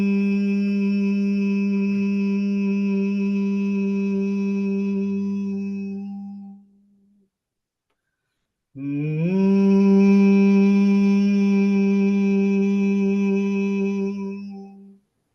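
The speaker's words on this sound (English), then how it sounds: "hum deeply and intensely without stopping" A person hums deeply and intensely in a steady, resonant drone that holds for several seconds, stops for a brief breath, then resumes just as strongly, close and loud with no other sound.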